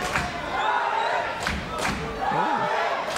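A live fight crowd at a Rumble 70 bout between Brian Tsutsumi and Alex Corrales yells and cheers a fighter on in round four, a steady dense roar with sharp shouted bursts and a dull thud or two mixed in.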